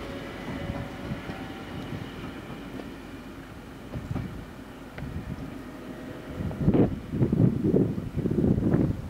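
A Danish A4 commuter train rumbles along at a steady low drone, and a few rhythmic clattering bursts from the wheels grow louder toward the end.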